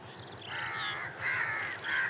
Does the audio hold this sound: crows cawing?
yes